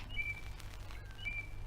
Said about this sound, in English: All I can hear are the birds.